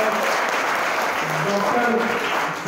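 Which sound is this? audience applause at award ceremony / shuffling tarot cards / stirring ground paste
audience applause at award ceremony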